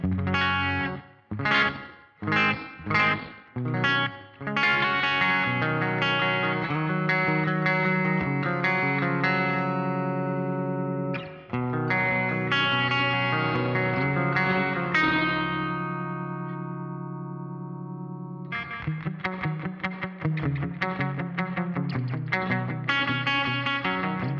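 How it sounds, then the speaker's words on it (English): Electric guitar strums choppy chords through the room reverb setting of a BOSS RE-202 Space Echo, then sustained ringing chords fade out with a reverberant room tail before playing resumes. "Now for the room reverb."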